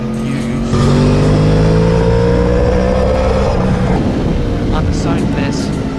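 Yamaha R1 sport motorcycle exhaust droning steadily while riding a mountain road at sunset, the engine note rising and falling through gears, loud and close beneath wind noise.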